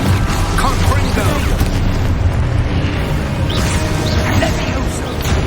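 A fiery Confringo spell explosion from the Hogwarts Legacy video game, a dense rumbling blast that stays loud and steady, layered with crackling game effects throughout.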